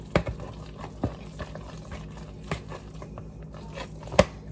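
Spoon stirring buffalo chicken dip in a bowl, a wet, squelching mix with soft irregular clicks against the bowl at a steady slow pace, fairly close and quiet, with no talking.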